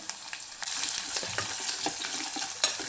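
A soft, steady sizzle of a tempering with green chillies and curry leaves frying in oil for moong dal rasam, with occasional stirring scrapes and small crackles, close up and fairly quiet.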